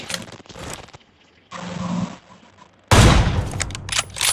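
Loud, abrupt bursts of BGMI video game gunfire, several quick shots and a heavy volley, separated by short quiet gaps.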